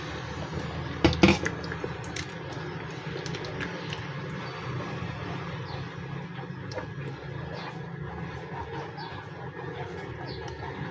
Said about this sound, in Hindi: अब इस तरह की कोई भी छलनी लेके, कोई भी स्टीनर लेके इस तरह की,